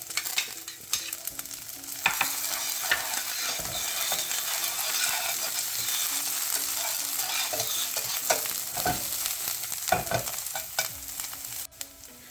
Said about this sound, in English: starting with lemongrass. We'll just stir fry that up. Let it brown a bit.